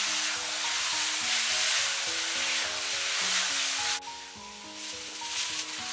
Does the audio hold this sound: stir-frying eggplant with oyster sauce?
yes